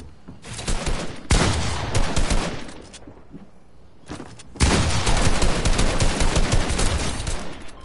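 Rapid automatic gunfire in a shooter video game, loud sustained bursts of dense shots with a short lull in the middle before another long, heavier volley, no talk.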